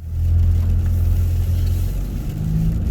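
A car engine runs steadily on a cold, icy day while the vehicle drives off around the block, giving a loud, continuous low rumble with no voices.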